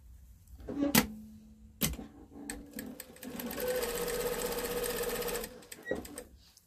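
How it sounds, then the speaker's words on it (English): A home sewing machine stitches the seams of a stuffed memory bear, a fast steady run of needle strokes lasting a few seconds between sharp clicks and handling noises, with no talking. "Just sew straight across."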